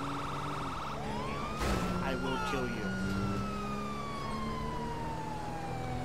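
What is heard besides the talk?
police car siren in GTA 5 video game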